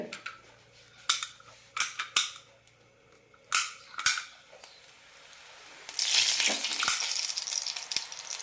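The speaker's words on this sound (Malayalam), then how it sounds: "മീഡിയം ഫ്ലെയിമിലിട്ട് വറുത്തെടുത്താൽ മതി എണ്ണയിലെ പതയെല്ലാം കുറയാൻ തുടങ്ങിയിട്ടുണ്ട്" Wheat flour murukku deep-frying in hot oil on a medium flame: a few sharp clicks and knocks give way to a loud, steady, close hiss and crackle of frying.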